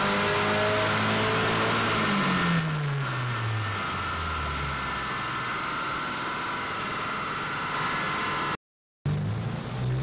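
A turbocharged car engine revs hard during a boost test run, loud and close, with a rising pitch sweep early on and then a sustained high-rpm drone. A brief dropout cuts in near the end.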